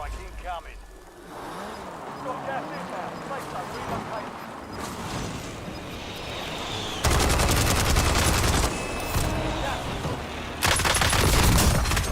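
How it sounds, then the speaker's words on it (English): A hostile airstrike hits in Call of Duty Warzone on the Verdansk map: scattered gunfire and rumbling, then heavy, dense blast barrages in two loud bursts. A player talks over the action. "Hostile airstrike"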